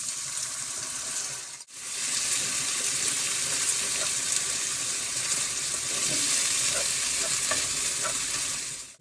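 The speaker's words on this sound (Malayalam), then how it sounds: "കുറച്ച് ചിക്കൻ്റെ സ്റ്റോക്കിനത് ചേർത്ത് കൊടുക്കട്ടോ" Chicken stock poured into Chinese beef frying over a high flame sets off a loud, steady sizzle and hiss that runs throughout, broken once by a brief dropout early on.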